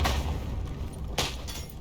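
Explosions boom in a World War I video game: a deep rumbling blast at the start, then a second sharper burst just past the midpoint, over a low continuous battlefield rumble.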